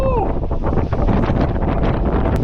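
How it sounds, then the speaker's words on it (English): A blizzard in Alaska sends wind gusting at around 50 mph, a loud, continuous roar that buffets the microphone with heavy rumbling, nearly drowning out a faint voice beneath it. "It's got to be gusting 50 miles per hour out here."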